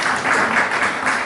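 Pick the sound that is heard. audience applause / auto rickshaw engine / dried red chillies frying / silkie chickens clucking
audience applause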